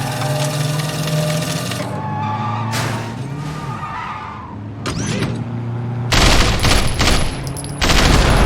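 Bursts of rapid gunfire in the video game Sleeping Dogs: Definitive Edition, loud automatic fire mixed with engine and skidding noise, with a heavy burst near the end.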